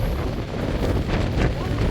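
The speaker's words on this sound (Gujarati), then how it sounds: "કેટલો પવન આવે" Strong wind roaring and buffeting the microphone in a steady, dense rush that lasts throughout, loud and close.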